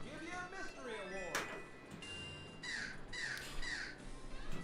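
Harsh bird squawks from a virtual pinball game, a few sharp bursts in sequence among electronic game tones and clicks, fairly loud and close, with a voice talking at the start.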